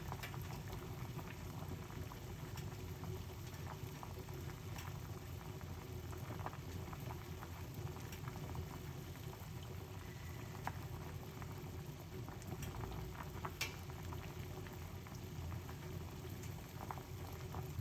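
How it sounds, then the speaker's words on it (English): Herbal tea boiling steadily in a pot, a continuous soft bubbling and rolling simmer that stays even and close throughout with no talking. "Make it go and boil for a little bit."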